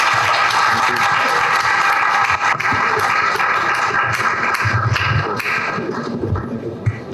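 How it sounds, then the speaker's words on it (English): An audience at a tech summit workshop gives sustained applause, a dense wash of clapping that carries on for several seconds and thins slightly near the end. "let's give a big round of applause to Subbu"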